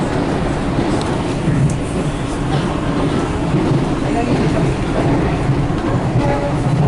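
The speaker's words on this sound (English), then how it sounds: "Look, another one of the trains heading out" An Amtrak train rumbles past close by in New York City, a steady heavy roar of wheels and carriages with faint rattling throughout.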